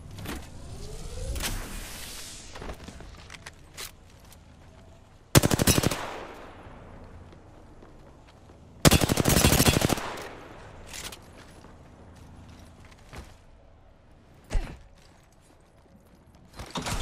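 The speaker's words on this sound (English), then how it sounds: "Getting shot at." An R301 rifle fires in a video game in two loud rapid automatic bursts several seconds apart, with lighter clicks, footsteps and mechanical game sounds in the gaps.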